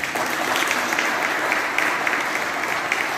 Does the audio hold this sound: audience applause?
yes